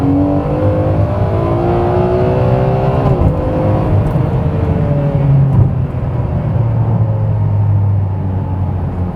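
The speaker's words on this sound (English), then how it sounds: "I'm going to give it one last blast here, but this is basically going from 4th to 3rd." A 2008 Ferrari 599 GTB Fiorano on a private race course accelerates hard after a downshift from fourth to third, its engine note rising loud and continuous through the gears, with a brief shift break midway and no talk.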